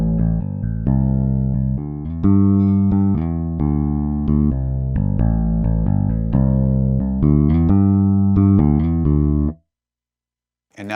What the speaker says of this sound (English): Here's the vintage bass,